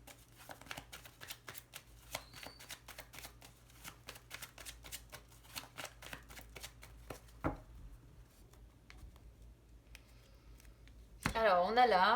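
Small Lenormand cards being shuffled by hand, a quick run of close, soft riffling flicks for several seconds, then a pause and a final louder shuffle, with someone speaking quietly over parts of it.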